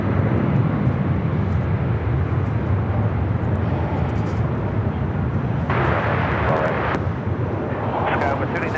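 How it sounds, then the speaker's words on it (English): Delta Air Lines Boeing 757-200 taking off for Atlanta, a loud continuous jet engine roar that holds steady throughout. "This takeoff is Delta Airlines 8815 taking off to Atlanta on the"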